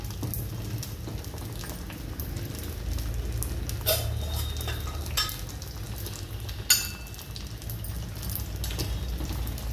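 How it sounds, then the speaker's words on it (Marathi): Spring rolls deep-fry in hot oil with a steady, soft crackling sizzle, accompanied by a few sharp clinks and scrapes from utensils in a home kitchen. "लहान मोठा गॅस करत हे तळून घ्यायचं"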